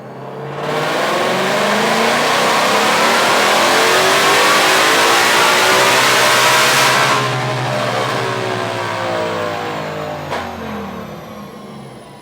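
A supercharged 2020-or-newer Ford Mustang GT500 with a ported supercharger revs hard on a dyno, a loud sustained engine roar that climbs through the pull for about six seconds before easing off into a lower drone and winding down.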